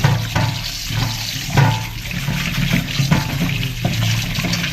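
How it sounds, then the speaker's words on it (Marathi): Tap water runs steadily into a sink while raw chicken is rinsed and rubbed under the stream, with occasional splashes and clunks. "चिकन एकदम मस्तपैकी धुवून झालंय"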